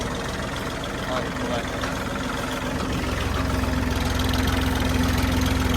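A tractor idles in a field with a steady, rumbling low hum that thickens and grows slightly louder midway, while people talk over it.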